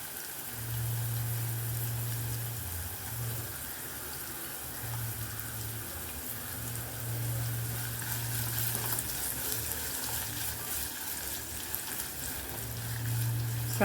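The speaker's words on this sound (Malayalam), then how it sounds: "നെയ്യ് ഒന്ന് ചൂടായതിന് ശേഷം നമ്മൾ ഇതിലോട്ട് അരിഞ്ഞു വെച്ചിട്ടുള്ള സവാള, കനം കുറഞ്ഞ് അരിഞ്ഞു വെച്ചിട്ടുള്ള സവാള ഇട്ട് കൊടുക്കണം" Thinly sliced onion fries in hot ghee for biryani, giving a continuous, moderately quiet sizzle with a low background hum and faint stirring noises throughout.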